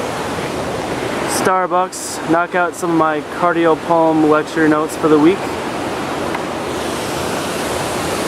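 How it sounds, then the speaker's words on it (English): A small waterfall in Milford pours as a steady, loud broadband rush that runs the whole time, with someone talking over it through the middle stretch. "if you were wondering what that loud noise was in the background, it's this cool little waterfall thing they got going on here in Milford"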